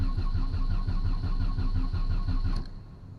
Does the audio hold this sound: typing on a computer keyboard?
no